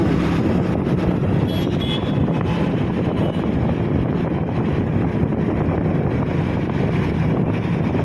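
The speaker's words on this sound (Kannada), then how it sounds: "ನಮ್ಮ ಮನೆಯವರಿಂದ ನಾನು ಬೈಕ್ ತೊಗೊಂಡು ಹೊಂಟು ಬಿಟ್ಟಿದ್ದೀನಿ" Steady, loud wind buffeting and engine rumble from a motorbike ride on the road, continuous throughout with no talking.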